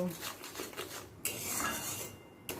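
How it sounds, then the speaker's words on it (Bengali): A spoon scrapes and clinks against a cooking pan while turmeric, sugar and Kashmiri red chilli powder are mixed in for tel potol, with soft close rubbing strokes and a couple of sharper metallic knocks. "দিয়ে ভালো করে মিশিয়ে নেব"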